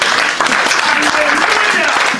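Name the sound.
church congregation applauding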